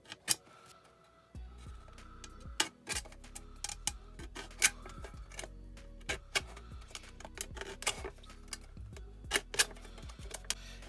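Scissors cut through thin aluminum sheet for a DIY wind spinner, sharp irregular snips and clicks repeating close by with a low background hum and no talking.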